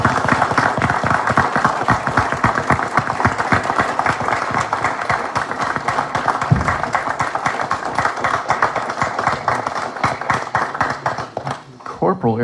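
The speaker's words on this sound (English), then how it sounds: "let's give them all a round of applause" An audience at a township board of commissioners meeting applauds in a steady, dense wash of clapping that carries on for several seconds, fading slightly near the end.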